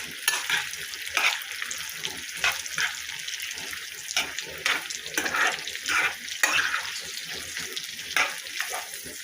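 Sucuk sausage fries in a pan with continuous crackling and sizzling, broken by frequent stirring scrapes and irregular pops.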